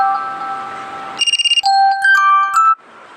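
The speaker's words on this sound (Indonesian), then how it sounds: "saya akan pilih nada dering yang ini." A phone alarm ringtone plays alone as it is previewed: a bright electronic melody of rapid pulsing beeps followed by sustained synthesized tones, loud and close, ending abruptly.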